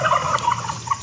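Several turkeys gobble in a summer flower and herb garden, a run of rapid warbling calls close by, repeating over about a second.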